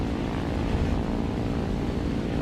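A Fw 190 A-5 fighter's propeller engine in a video game drones at a steady, loud, even pitch with no breaks. Other aircraft may add to the unbroken roar.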